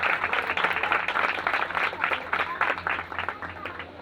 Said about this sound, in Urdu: زوردار تالیاں خداوند کے جلال کے لیے